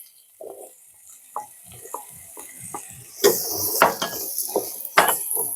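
Carrot and green capsicum tipped onto softened onion in a pan for wheat-flour noodles, giving soft sizzling with several sharp clinks and scrapes of a utensil stirring, louder in the second half.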